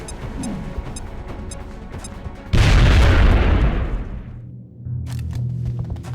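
A frag grenade goes off in the game XCOM Enemy Within, a sudden loud blast with a deep rumbling tail that fades over about two seconds, followed by lower ambient game sound.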